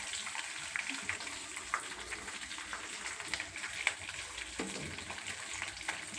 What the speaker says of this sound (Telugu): పచ్చిమిరపకాయ ముక్కలు వేసుకోవాలి. ఇవి బాగా వేగాలి.